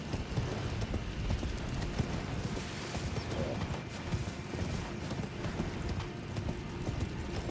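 Horse hooves clatter in a steady, continuous galloping rhythm in the video game Elden Ring, fairly loud and up close throughout, with a dense mechanical rumble and ambient game noise underneath.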